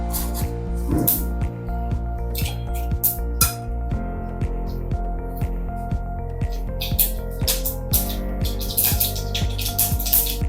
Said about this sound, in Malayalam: എണ്ണ ചൂടായിട്ടുണ്ട് കുറച്ച് കടകിട്ട് കൊടുക്കാം